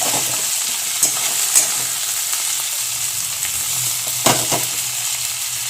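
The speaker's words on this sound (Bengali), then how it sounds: "আমি এখন খুন্তি করেই কেটে নিচ্ছি" Semolina upma frying in a pan while tomato is chopped against the pan with a metal spatula, giving a steady close sizzle broken by a few sharp scraping knocks, with no talking.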